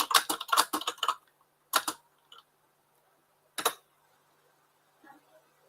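Bursts of keyboard typing: a quick cluster of close, crisp key clicks, then a few isolated short clatters separated by quiet gaps, faint overall.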